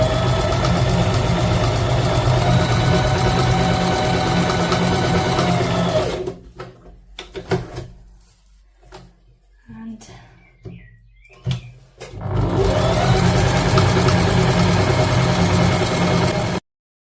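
A sewing machine quilts a potholder quilt sandwich of Insul-Bright and two layers of quilting cotton, running in long steady bursts with a quiet pause between them and a voice talking over the stitching.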